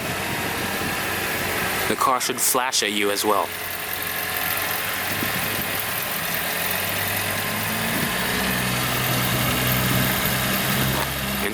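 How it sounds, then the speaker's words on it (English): A 2017 Honda Civic EX-L hatchback, remotely started from the key fob, settles into a steady low idle that runs on for several seconds after a voice speaks briefly near the start. "The car should start right up."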